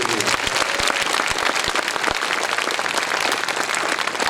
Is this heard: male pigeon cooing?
no